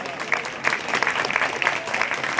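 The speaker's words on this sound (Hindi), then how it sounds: "जोरदार तालियों के साथ।" An audience applauds at a student exercise demonstration at a gurukul in Arya Nagar, Hisar, Haryana, a steady burst of many hands clapping close by.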